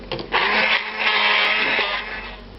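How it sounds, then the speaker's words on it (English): A stick blender whirs steadily through an olive oil mixture for stuffing in a professional kitchen, a continuous close, dense buzz running the whole time with a slight dip midway. "Now this gets the usual stick blender treatment."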